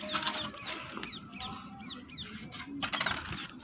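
Several quick bursts of a pigeon's wing flapping close by, brisk fluttering in short clusters, with a few faint chirps between them.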